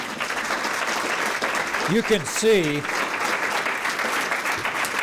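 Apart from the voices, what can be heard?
applause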